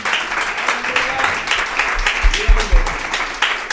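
A church congregation claps loudly and steadily through a sermon, dense applause with a few heavier low thumps, likely some voices mixed in.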